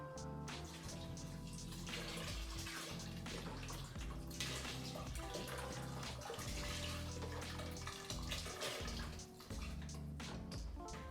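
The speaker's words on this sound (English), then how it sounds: "Now add your vegetable broth." Vegetable broth pours steadily into a soup pot of vegan French onion soup with rosemary and thyme, a continuous splashing, gurgling stream up close with no talk.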